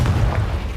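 A Confringo blasting spell explodes in Hogwarts Legacy, a deep, loud booming burst that rumbles low and sustained through the whole short moment with no quiet gaps.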